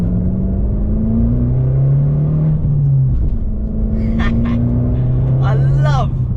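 An Abarth 595 Competizione with its 1.4 engine pulls hard, its steady revving note climbing, dropping at an upshift midway, then rising again. Brief voice sounds come through near the end.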